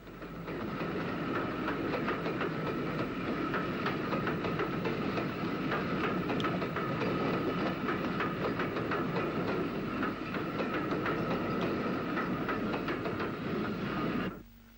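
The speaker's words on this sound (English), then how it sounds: "one of the magnificent Great Northern VS Class 440s was often called upon to work the full length of the main line" A Great Northern VS Class 4-4-0 steam locomotive hauling a train on an Irish main line, a steady rumble and rhythmic clatter of wheels over rail joints, loud and continuous before cutting off abruptly.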